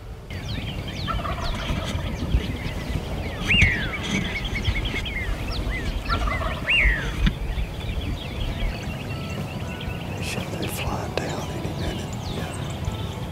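Wild turkeys, hens and longbeards, gobble in short, rattling bursts at moderate distance, a few calls spread across steady outdoor background noise with faint other birds.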